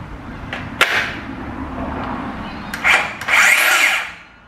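A DeWalt battery-operated drill used while building a cornhole game gives a few short whirring bursts with sharp knocks between them. It sounds close and moderately loud, with no one talking.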